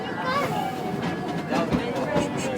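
A Thomas and Friends ride-on train at an amusement park rolls along with a soft, steady rumble and light clatter, under people chatting and children's voices nearby.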